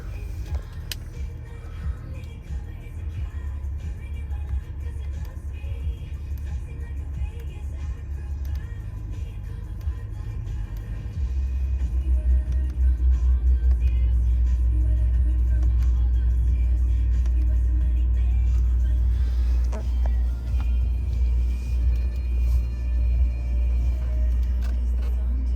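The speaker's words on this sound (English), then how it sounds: "Start it up here for you." A lifted 2022 Chevy 3500 HD pickup with a 7-inch lift rumbles to life, its deep low engine note stepping up in loudness partway through and then settling into a steady, heavy idle close by.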